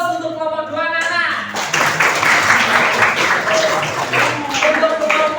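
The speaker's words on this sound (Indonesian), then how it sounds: "Sekali lagi kita berikan aplaus untuk kelompok 2 anak-anak." Students clap for the winning group in a classroom, steady applause over several seconds that follows a teacher speaking.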